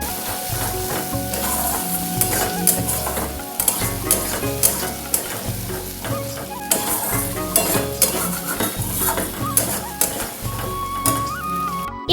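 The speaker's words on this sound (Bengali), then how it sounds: "তারপর দিয়ে দিয়েছিলাম গোটা জিরে ফোড়ন।" Whole cumin seeds and a paste of onion, ginger, garlic and chilli fry in hot oil for a Bengali seafood dish, loud crackling sizzle with rhythmic stirring and clinks of a metal spoon against the pan, close up.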